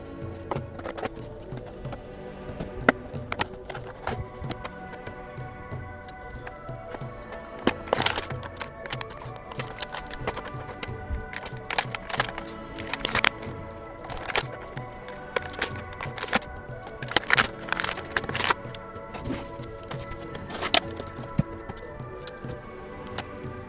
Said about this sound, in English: We're going to go ahead and crack it out of the packaging.